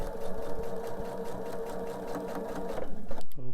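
A sewing machine stitches quilt seams at a slow, even pace, its needle thumping in a steady rhythm over a motor whir, close up, ending with a brief mechanical clunk as it stops.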